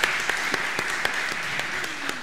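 Audience applause at a crime-fiction literary event in a Barcelona train station, a dense wash of clapping with several sharper individual claps standing out at regular intervals.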